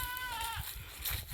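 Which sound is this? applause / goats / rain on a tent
goats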